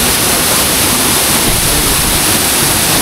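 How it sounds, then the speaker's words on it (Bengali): A waterfall in Sajek Valley roars as a dense, steady wash of falling water, loud and close, unbroken across the whole stretch with no voices. "অন্যরকম লেভেলের ঝর্ণা ভাই।"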